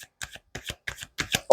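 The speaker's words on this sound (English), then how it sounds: "Let me pull a couple more cards" Tarot cards being shuffled and pulled by hand, a quick run of short crisp riffles and flicks in uneven bursts, close and clear, ending in a sharper snap.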